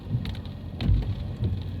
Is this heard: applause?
no